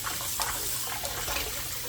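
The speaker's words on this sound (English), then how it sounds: "we're running under fresh water, as you can see" Fresh callaloo leaves are rinsed under a running tap, a steady close splashing gush of water that runs without a break and has no talk over it.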